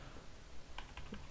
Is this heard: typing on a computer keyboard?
yes